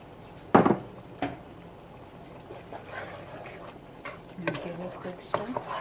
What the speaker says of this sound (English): You just want to stir it in and kind of get it fully warmed through.